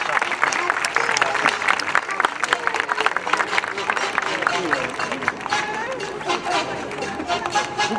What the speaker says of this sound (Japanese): 皆さん拍手でお願いします。